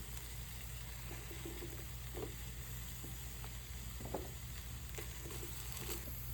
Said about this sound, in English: Let's cook the eggplants first in the hot oil.